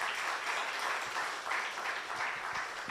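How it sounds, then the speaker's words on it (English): An audience at a health summit applauds the panelists, a steady, fairly faint wash of many clapping hands heard from some distance, continuing without a break. "I think we should give them a round of applause."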